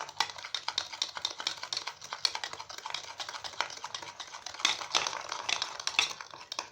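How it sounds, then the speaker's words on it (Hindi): Rapid, light clinking as a spoon beats a coffee mixture by hand in a cup, a steady fast rhythm of close, fairly faint taps throughout. "कॉफ़ी के मिक्सचर को बीट करते हुए 3 से 4 मिनट हो गए हैं"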